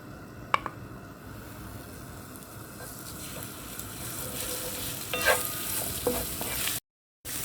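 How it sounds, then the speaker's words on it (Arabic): Ginger frying in hot vegetable oil gives a steady sizzle that builds louder, broken by scraping stir strokes and a few metallic clinks, with no talking, ending in a brief dropout. "هلا هون عندي الزنجبيل بعد ما قليته"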